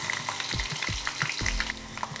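Crushed garlic hits hot tempering oil for a rough lemon pickle, crackling and frying in a dense, close sizzle with a few low thumps of stirring.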